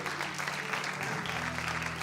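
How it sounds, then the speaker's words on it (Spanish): Audience applause at a youth congress, a steady crowd clapping fairly softly and filling the whole moment with a dense patter, no voice standing out over it. "A ver, un aplauso, así como cantaban recién."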